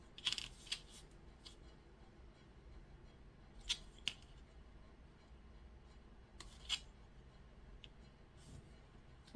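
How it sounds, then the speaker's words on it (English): A few short, crisp scissor snips cutting a small hole in Valentine's gift material, coming as isolated clicks spread over a quiet, faint background. "we're going to have to just cut our little hole again"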